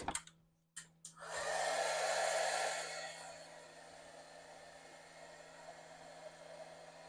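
A heat tool blows with a steady whooshing hiss for about two seconds, melting white embossing powder over a Versamark stamp, after a few soft taps, then fades into quiet room tone.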